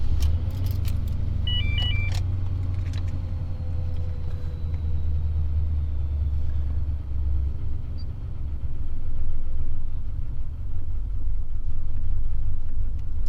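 A car engine that has been idling slightly irregularly idles steadily with a low rumble throughout, while keys jangle briefly near the start.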